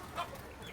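Free-range country chickens at a live poultry market in Ajman give one brief, faint cluck against a low market murmur.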